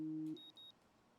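A phone alarm sounds, a loud steady two-tone buzz holding for a moment before cutting off, then a few quick faint high beeps follow in a quiet room.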